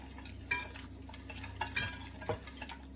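A spoon scrapes and stirs green chilies, ginger and garlic in a pan, a few distinct scraping strokes with light clinks over a quiet background hum.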